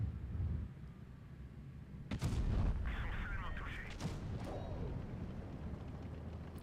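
A tank cannon shot in World of Tanks, one loud booming blast with a rumbling tail, followed by a second crack, over low battlefield noise.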